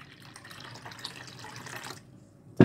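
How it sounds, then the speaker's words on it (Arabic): Water pours steadily into a strained drink mixture for an Iraqi refreshing drink, a soft splashing flow for about two seconds, then it stops and a sharp thump follows. "غادي نزيد عليه نسبة من الماء"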